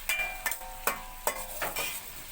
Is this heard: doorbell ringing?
no